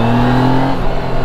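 A Yamaha Niken 850 three-wheeled motorcycle engine accelerates on a track, a steady loud drone with strong low harmonics that holds through the short burst without any voices.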